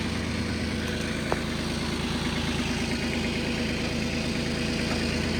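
A Kubota B1-241 tractor engine rumbles steadily at idle, a continuous low chugging throughout with no voices.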